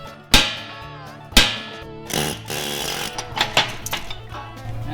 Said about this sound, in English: What in the world hit that thing? Air hammer.